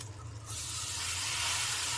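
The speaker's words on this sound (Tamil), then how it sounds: "சூடான ஆயில் இருக்குது பாருங்கள். கொஞ்சம் கொஞ்சம் ஊற்றுங்க." Hot oil poured in small amounts into cooked gram flour for Mysore pak sets off a sudden, steady sizzling hiss that jumps up after a brief quiet start and keeps going evenly. No one talks.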